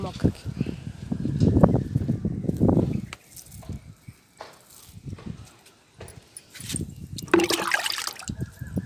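Liquid fertilizer made from leftover rice is poured onto a potted plant, giving several splashy gushes and trickles at close range, with quieter gaps and a brief rustle between pours.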